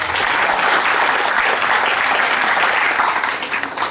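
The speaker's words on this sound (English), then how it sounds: "So let's give them a big round of applause." Loud, dense applause from a school audience at a Grandparents Day event, with many hands clapping steadily throughout and easing slightly toward the end.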